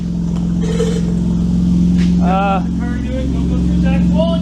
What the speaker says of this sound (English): Okay, it runs. Give it a rev.